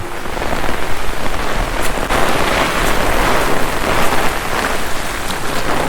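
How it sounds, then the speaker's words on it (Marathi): Heavy rain with strong wind during a clam-gathering outing, a loud, dense and continuous roar of rain on surfaces and gusting wind with no voices. "आज जोरात पाऊस आहे रे आज बेकार हवा आहे"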